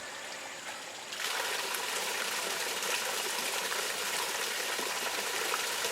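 A backyard pond waterfall switching on after quiet, then a steady, loud rush of splashing, trickling water running continuously up close.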